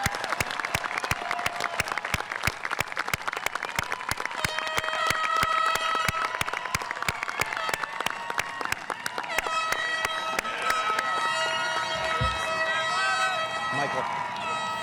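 A crowd at a 2023 high school graduation ceremony applauds the graduating class, steady dense clapping filling the hall with cheers and voices mixed in throughout.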